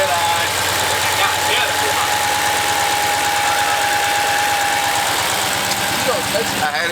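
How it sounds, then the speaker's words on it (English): A Dodge Hellcat Redeye idles with its hood open, its supercharger whine riding a thin steady tone over a loud, rhythmic, pulsing engine rumble, while a man exclaims briefly nearby. "I'ma pop the hood so you hear that motherfuking whine though"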